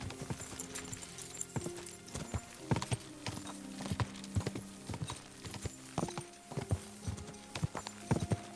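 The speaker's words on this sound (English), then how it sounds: "This horse is not following path." Horse hooves clip-clop steadily in Kingdom Come: Deliverance II, a rhythmic series of close, distinct hoof strikes on the ground with a faint whinny and ambient game sounds, no talking.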